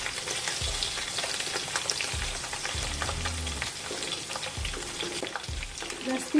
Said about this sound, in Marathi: आता आपण खोबरं टाकूया।